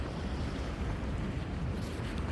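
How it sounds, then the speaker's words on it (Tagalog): Sea waves wash onto the shore on a rainy day with no one around, a steady, dense roar of surf mixed with wind noise on the microphone, continuous and close throughout. "Dagat."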